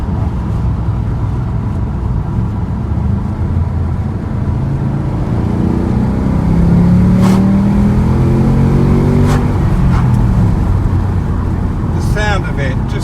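A rare MG X Power SVR with a 5.0-litre Mustang V8 rumbles loudly from inside the cabin, a deep continuous roar that swells as it accelerates, with talk over it.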